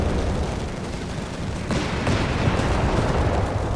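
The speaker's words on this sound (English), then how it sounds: "Never mind the mortar fire." Mortar fire in Company of Heroes 3 pounds through a loud, sustained battle din, with heavier booming impacts landing in the second half amid continuous gunfire.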